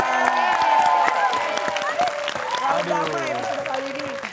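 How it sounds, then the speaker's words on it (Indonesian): A studio audience at a celebrity game show applauds and cheers continuously, a dense wash of clapping mixed with excited voices and shouts at moderate loudness throughout. "Tepuk tangan dulu untuk Mary Putria"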